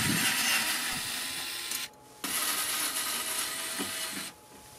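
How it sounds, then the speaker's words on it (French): Continuous buzzing whir of a power screwdriver removing the screws from the transport crossbars of a Parkside PADM 1250 A1 planer thicknesser, running in two long bursts separated by a short pause, close and moderately loud, with no talking. "Il y a 2 vis à retirer."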